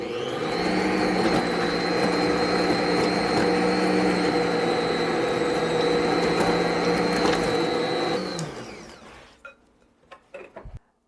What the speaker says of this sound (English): So I ran the mixer for 2 minutes and I scraped down the sides to get the sugars all mixed in